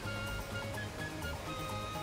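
Steady broadband rushing of a waterfall in the Super Mario RPG video game, a continuous wash of water noise with faint game music tones layered on top throughout.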